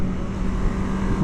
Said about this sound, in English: we're revving it up quite a bit